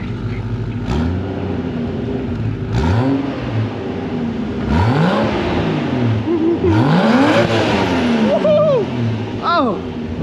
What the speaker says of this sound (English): Hey, you can kind of hear the turbo.